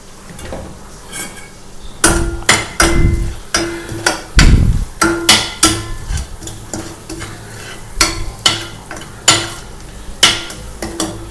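Spices roast in a pan for a taro (arbi) curry, with a spoon stirring briskly. The spoon makes rapid, close metallic clinks and scrapes against the pan over a low, continuous sizzle.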